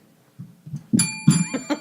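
A small bell rings twice in quick succession with bright, sustained metallic tones, close and fairly loud, amid a few soft thumps.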